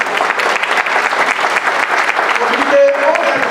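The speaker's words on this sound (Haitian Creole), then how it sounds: "bel applaudissement pour Claire Lydie Parent" An audience applauds Claire Lydie Parent at a Haitian opposition commission ceremony. Dense, sustained crowd applause fills the whole stretch, with a brief high tone near the end.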